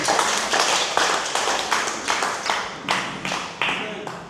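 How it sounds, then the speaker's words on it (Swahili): Hands clap in a church congregation, a run of sharp, uneven claps building into scattered applause that carries on steadily throughout, fairly close, with no talk over it. "Mpigieni makofi."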